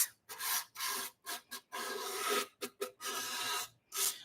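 Fine 600-grit sandpaper gently rubbing over varnish on a violin, in a series of short soft strokes with brief pauses between them, close and quiet.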